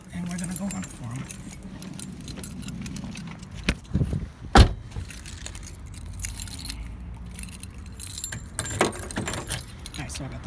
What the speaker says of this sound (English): I just had to lock my car.